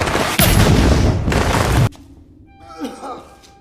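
A loud bomb blast at a cave entrance in a film, a heavy booming roar with crashing debris lasting about a second and a half, then a sudden drop to a quieter rumble with faint rustling movement.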